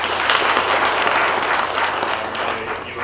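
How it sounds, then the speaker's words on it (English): An audience at a high-level investment stakeholder forum in Kitui, Kenya, claps steadily in a dense, continuous round of applause that holds loud for about three seconds and then begins to fade slightly. "Please give him a clap."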